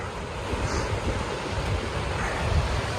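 A steady, dense rush of falling water from Aras Waterfall on Uludağ, among snowy peaks, roars continuously, broadband and unbroken, with no voices over it.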